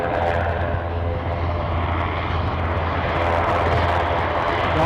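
An airliner departing from Aberdeen Airport, a loud, steady engine roar with a low droning hum that holds for several seconds, no voices.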